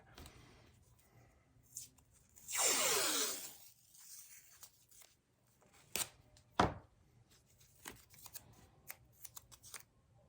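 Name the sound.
masking tape being pulled off the roll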